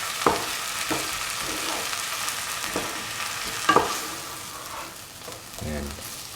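Eggplant fried rice with salt and spices being stirred in a frying pan, a steady sizzle with scattered scraping knocks of the spoon against the pan, close and moderately loud, with no talking.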